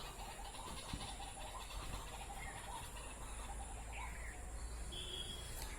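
Small exotic finches at a bird market chirp and twitter in a busy chorus, many birds calling rapidly over a constant background hum, fairly faint.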